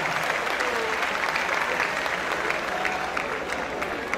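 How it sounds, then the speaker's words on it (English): An audience at a public lecture and fellowship award ceremony gives a sustained round of applause, even and moderately loud, with faint voices murmuring beneath the clapping. "A round of applause for Tubaba"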